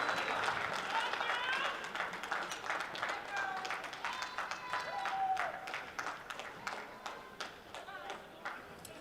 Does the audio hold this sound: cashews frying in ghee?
no